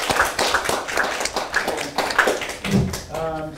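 A short burst of clapping from a small group at a foreign policy student presentation, a run of distinct, fairly sparse claps with voices speaking over and after them.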